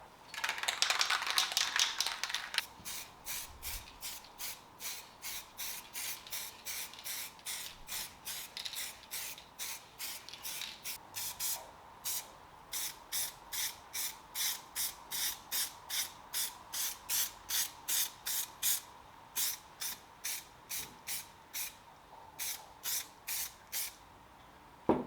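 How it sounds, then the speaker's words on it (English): Short bursts from a spray can apply primer to Audi A3 interior plastic parts, a long first hiss followed by dozens of quick evenly spaced puffs, close and clear with no talk. "So let's apply the primer again, let it dry, and then apply the black matte."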